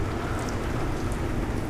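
Steady rain during a severe thunderstorm, heard from indoors as a dense, continuous wash of patter with a low rumbling undertone, even and unbroken throughout.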